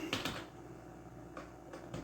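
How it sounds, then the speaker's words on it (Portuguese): Keys clatter on a computer keyboard in short bursts, a quick cluster near the start and a few lighter taps later, close and fairly quiet against a low steady hum. "Firefox aberto, eu vou digitar aqui"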